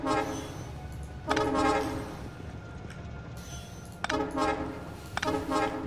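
Trains rolling through a Factorio base sound a series of short tonal horn toots, in three bursts spaced a few seconds apart, over a continuous low mechanical rumble.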